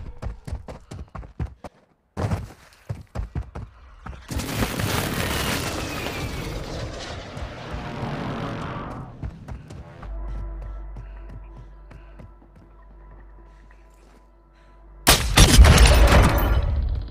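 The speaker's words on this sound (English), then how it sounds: "Hostile airstrike incoming." Hostile airstrike explosions in the Warzone Mobile video game: rapid gunfire cracks, then a long rumbling blast, a low sustained drone, and another heavy burst of explosions near the end.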